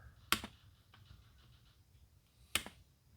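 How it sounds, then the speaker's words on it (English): Two sharp, close clicks about two seconds apart, as cutters snip small nubs off plastic model kit parts for a 1:1400 scale U.S.S. Enterprise NCC-1701-C, with faint handling noise between them. "I'm going to cut these little nubs off"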